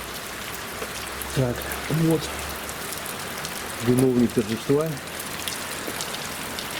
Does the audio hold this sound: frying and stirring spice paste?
no